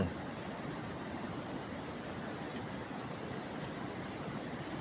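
A waterfall beside a flooded mountain road pours in a steady, broad rush of water noise, continuous and fairly close with no breaks and no voices.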